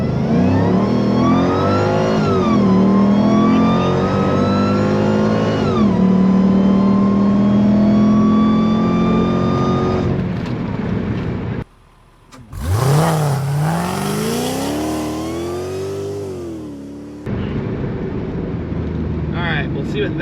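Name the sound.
600 HP Mercedes car doing a standing burnout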